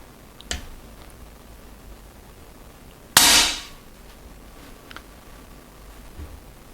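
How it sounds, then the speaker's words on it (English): An airsoft gun is fired without a silencer: one sharp, loud crack with a short fading tail, between faint clicks and handling noises in a quiet room. "I'm testing the gun without a silencer"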